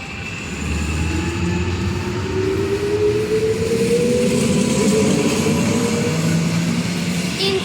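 An Interregio passenger train pulls out of Poznań Starołęka station, a loud, steady rumble of wheels and motors building as it departs, with a rising tonal whine from the traction equipment running throughout.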